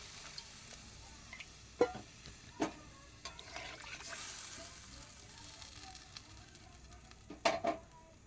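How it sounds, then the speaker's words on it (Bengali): Water poured into a sizzling fish curry in a pan, with soft frying hiss, a few sharp clinks and splashes of liquid, all quiet and close. "পরিমাণ মতো জল দিয়ে দেবো"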